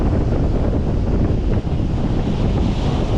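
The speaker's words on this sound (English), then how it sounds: "We got about 20 to 30 gusts of wind coming up." Strong wind gusts buffet the microphone at a coastal jetty, a loud, continuous rumbling roar mixed with surf, with no voices.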